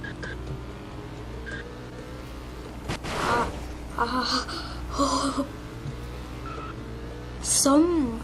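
A car in the Roblox Vehicle Simulator video game drifts with short bursts of tire squeal over a steady engine drone, while a player talks.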